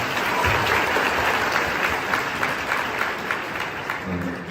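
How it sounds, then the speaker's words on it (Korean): An audience of students at a foreign language high school welcome ceremony for new students breaks into loud, sustained applause that holds steady, then eases slightly at the end. "박수 쳐주세요"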